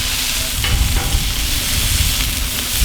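The sides of a Wagyu steak sear on a cast iron grill with a loud, close, continuous hissing sizzle and faint crackles throughout, with no talking.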